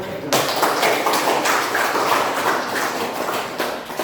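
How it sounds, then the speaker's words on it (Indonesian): A class of students applauding themselves at the end of a church lesson, dense steady clapping from many hands close by that starts abruptly and continues throughout. "Kita beri aplaus untuk diri sendiri"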